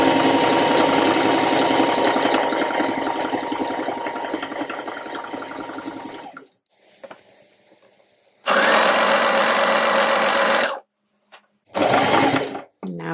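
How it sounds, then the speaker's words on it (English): A sewing machine runs a long straight stitch around the edge of a reversible button-front dress, a loud steady whir that stops, then restarts in two shorter bursts. "I'm going to follow around that edge just with a straight stitch."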